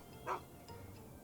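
A dog in the Fallout 3 video game gives a single short, close bark, followed by faint softer yips or whimpers.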